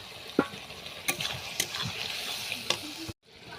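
Kohlrabi and potato pieces fry in a spice paste of turmeric, chili powder, ginger paste and salt for a fish curry, giving a continuous sizzle broken by sharp scraping and stirring clatters before a brief cut-off.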